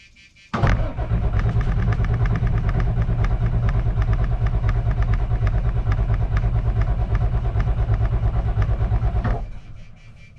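A Caterpillar C7 diesel engine in a 2006 Freightliner XC motorhome chassis cranks and catches with a steady, loud, rhythmic chug for about nine seconds, then cuts off abruptly, with no talk over it.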